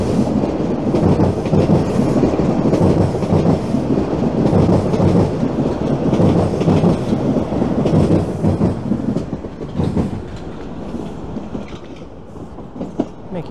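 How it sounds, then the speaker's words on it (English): A southbound TTC Line 1 subway train pulls out of Davisville Station in Toronto, a loud continuous rumble with clattering wheels and rail clicks that gradually fades as it moves away. "There's a southbound Line 1 train pulling out of Davisville Station."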